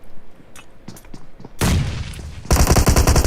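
A grenade blast in PUBG during a PMCO esports qualifier match: a loud, dense crackling burst, then an even louder sustained roaring crackle.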